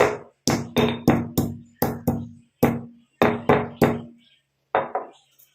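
Almonds being lightly pounded with a stone pestle, about eleven sharp knocks in an irregular rhythm, some in quick pairs, with short gaps and a pause before the last few, close and clear with no talking.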